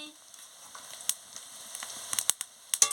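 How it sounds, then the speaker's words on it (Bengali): Ginger and garlic paste with spices fries in a pan, a soft steady sizzle with scattered crackles and small pops, close and fairly quiet, without talk. "মশলাটাকে ভালো করে ভেজে নিচ্ছি"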